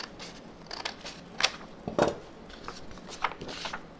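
Hand scissors cutting around a sublimation photo print on paper, a series of soft irregular snips and crinkles close by.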